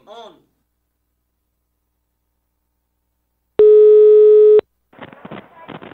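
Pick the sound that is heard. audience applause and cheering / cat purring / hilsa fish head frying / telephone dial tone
telephone dial tone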